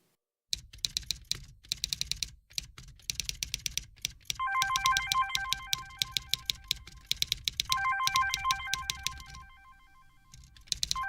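A telephone ringtone chirps in repeated bursts over rapid computer keyboard typing in an office, the clicks starting and stopping throughout while the ring comes and goes.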